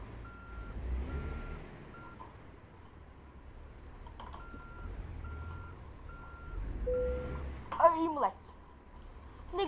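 Reversing beeps from a Peterbilt 389 truck in American Truck Simulator, a steady repeating beep pattern heard over the low engine rumble, with a brief voice and a clatter near the end.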